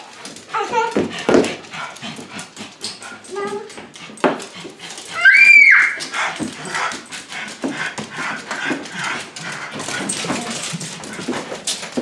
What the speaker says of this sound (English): Bye bye, doggies.